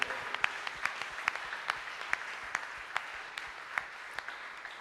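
A church congregation claps in rhythm during worship, sharp regular hand claps landing roughly twice a second over a soft hubbub, moderately close and without speech.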